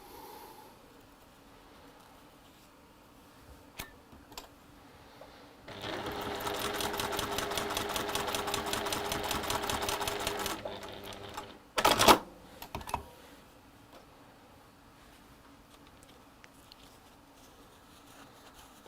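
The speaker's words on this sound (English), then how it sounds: "I'm going to take that square and I'm going to sew it onto that." A sewing machine stitches quilted fabric units together in one steady rapid run of about five seconds, preceded and followed by quieter handling and a brief sharp clatter near the end; no talking.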